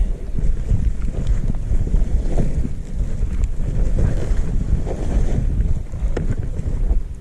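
Strong wind drives blowing snow across a ski slope in poor conditions, a loud, steady low roar buffeting the microphone for the whole stretch, with no talking.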